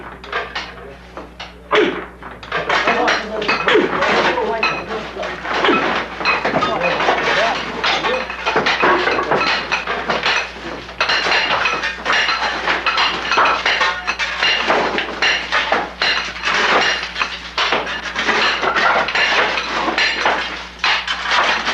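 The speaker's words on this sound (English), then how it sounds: "Shovels, chisels, and hammers, the mining technology hasn't changed much." Hammers and chisels strike rock inside a lapis lazuli mine in Afghanistan's Blue Mountain, a dense run of sharp metallic knocks and clinks sounding close, steady and echoing, with voices now and then under the blows.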